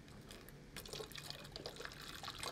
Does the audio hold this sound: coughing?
no